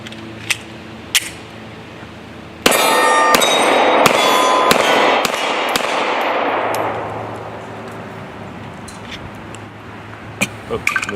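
Glock 43 pistol firing at a range, a few sharp isolated shots followed by a fast string of loud reports that ring out and decay, then a couple more scattered shots.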